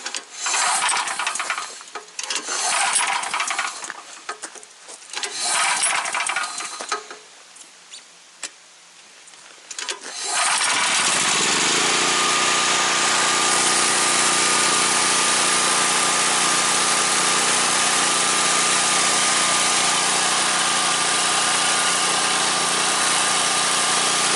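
A Simplicity lawn tractor engine is cranked with a few uneven attempts, then catches and settles into a loud, steady idle that runs alone and continuously to the end.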